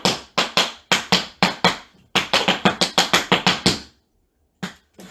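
Tap shoes strike a hard floor in a quick traveling time step with flaps, shuffles and ball changes, a crisp rhythmic run of sharp close taps, a short break, then a few final hits, no talking.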